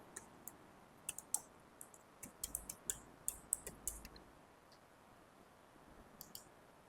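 Keys tapped on a computer keyboard while entering an email ID into an online registration form: sparse, light clicks in short irregular bursts, faint and close, with no talk.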